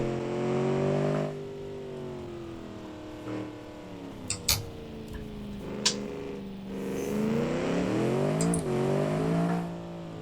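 Racing variant of the Crown Model 21 car in BeamNG pulling away after a gradual clutch release, a steady loud engine drone rising in pitch as it accelerates through gears, with a few sharp clicks and knocks along the way.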